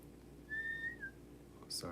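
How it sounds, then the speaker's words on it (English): A short whistled tone rises and slides back down, fairly soft and close, followed by a brief clatter. "Sorry for whistling like that."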